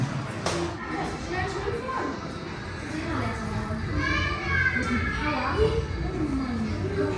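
Children play and shout at a campsite playground, a continuous lively crowd of young voices with high cries and chatter rising and falling over steady background bustle.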